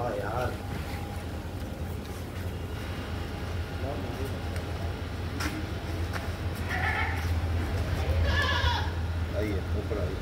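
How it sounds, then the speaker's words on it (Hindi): A large male goat, kept for Bakrid (Eid al-Adha), bleats several times at close range, its calls rising over a busy background of people talking. "ये 80 प्लस बकरा है, पालने वाली चीज़ है।"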